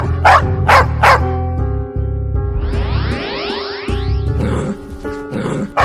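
A dog gives three loud, close barks in a quick rhythm. A sweeping tonal music score follows, with more barking and yipping returning faintly at the end.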